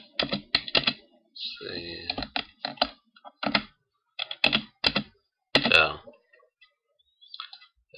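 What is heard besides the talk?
typing a password on a computer keyboard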